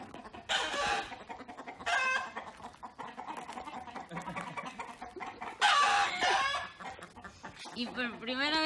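A hen at an animal sanctuary clucks in short bursts and squawks close by, with quieter stretches between, while a person talks softly in the background.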